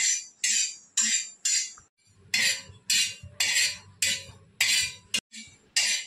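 A metal spoon scrapes and stirs spices roasting in a pan over low heat for chole masala, with steady, evenly spaced strokes about twice a second, close and clear.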